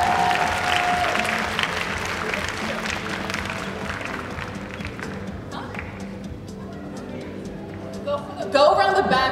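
Audience applause at a Lolita fashion show: a sustained, dense round of clapping that tapers slightly, with a burst of sharper, closer claps near the end and a voice briefly over it.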